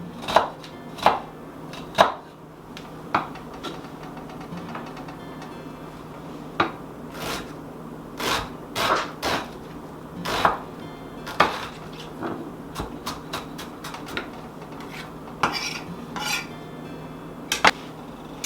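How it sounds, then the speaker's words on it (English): Knife chopping and dicing food on a cutting board for Hungarian goulash, sharp irregular taps in quick bursts and pauses, close and clear over a faint background hum, with no talking. "I'm gonna chop this up, or dice this up, kind of fine, not minced, but kind of small"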